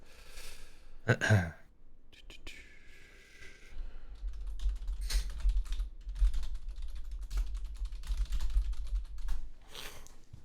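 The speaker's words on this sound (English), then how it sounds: "I'm going to type something to you quickly" Computer keyboard typing, with bursts of clicky keystrokes heard close, alongside a breathy sniff or gasp and faint background hum.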